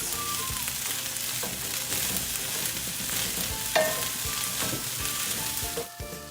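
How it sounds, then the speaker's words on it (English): Fried rice with green beans and carrots stirred in a hot pan, continuous sizzling with scraping stir strokes and a few clinks, close and steady without talk. "Remember to constantly stir the fried rice."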